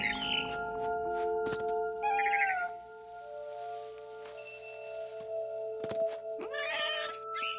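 A cat meows several times in the game What Remains of Edith Finch, clear nearby cries over a steady sustained musical drone, with a final drawn-out meow toward the end.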